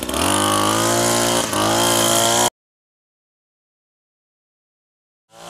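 Wild Badger Power 4-in-1 string trimmer running at a steady, loud, close buzzing whine that cuts off abruptly, followed by silence and then a brief restart at the end.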